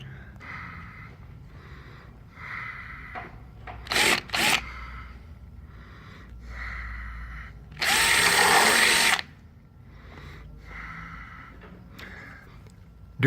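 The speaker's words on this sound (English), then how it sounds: "Then we drill the pinch seam, 1/4-inch drill bit" A power drill with a 1/4-inch bit bores through the pinch seam of a 2013 Mercedes-Benz Sprinter van, several short whirring bursts and one longer loud grinding run, with brief metallic clicks between and no speech.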